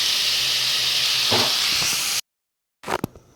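Leafy greens (shak) frying in a pan: a loud, continuous sizzling hiss with a small stirring knock partway through. It cuts off abruptly, then a few sharp clatters follow after a brief silence.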